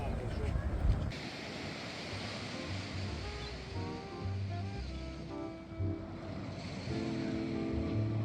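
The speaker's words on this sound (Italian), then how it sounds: "Mare calmo." Calm sea waves wash onto a wide beach in Portugal at sunset, a steady surf backed by wind buffeting the microphone, while people talk over it.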